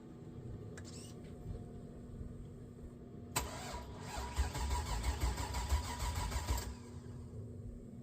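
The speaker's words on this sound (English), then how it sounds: "I hope I got the video of the vehicle started" A two-door Chevrolet Tahoe with an LS engine swap cranks and fires up in a snowstorm, its engine catching abruptly and running at a steady, loud idle for a few seconds before cutting off, with a low wind-like rumble throughout.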